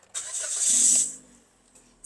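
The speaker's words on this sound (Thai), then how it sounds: "เดี๋ยวมาสตาร์ ทรถให้ดูเลขไม่กันนะ" A 2017 Toyota Vios 1.5E sedan cranks briefly, then catches and flares up loudly before settling back into a soft, quiet idle.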